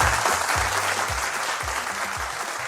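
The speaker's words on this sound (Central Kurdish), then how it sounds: "ئەی کوات چەپڵەکانتان" Audience applause in a studio during a Kurdish-language program, a full, even wash of clapping sustained throughout with no talk over it.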